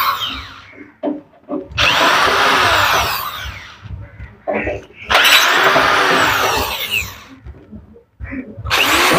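A power drill takes screws out of an outdoor AC unit during a compressor replacement, with several long, loud, close whirring bursts and brief gaps between them, and a voice faintly in the background.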